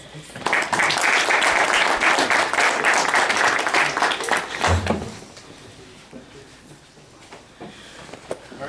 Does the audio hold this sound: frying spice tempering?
no